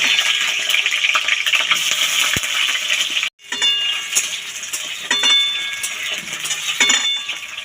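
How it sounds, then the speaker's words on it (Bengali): Diced potatoes, two medium ones cut into cubes, frying in hot oil in a pan, a steady dense hiss with light clinks of a utensil, broken by a short silent gap partway through. "প্রথমে আলুটা ভেজে নেব।"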